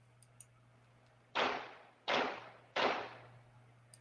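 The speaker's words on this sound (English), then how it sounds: "Okay, so listen to the gunshots." Three gunshots picked up outside a home by a ring doorbell camera, sharp distant cracks spaced under a second apart, each trailing off in echo over a faint steady electrical hum.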